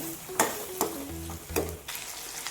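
Tomatoes sizzle in a pan while a spoon stirs and scrapes the bottom a few times, close by and without talking.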